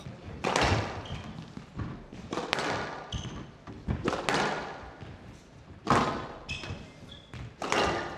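A squash match between El Shorbagy and Elias, with a rally of sharp ball impacts off the walls and racket, several loud thuds spaced irregularly and ringing in the court, with squeaking shoes and faint crowd noise between hits.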